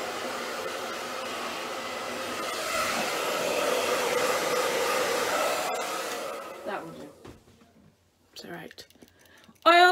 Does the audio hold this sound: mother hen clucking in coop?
no